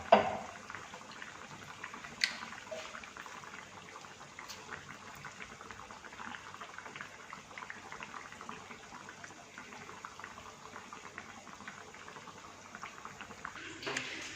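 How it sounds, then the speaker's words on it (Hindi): A potato sandwich fries in a pan with a soft, continuous bubbling hiss of hot oil. It stays fairly faint and even throughout, with a couple of small clicks near the start and end. "इसको फ्राई होने देते हैं।"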